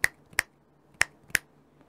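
Four sharp, close finger snaps in two pairs, crisp and isolated against near silence, made to sync audio while recording a short vlog.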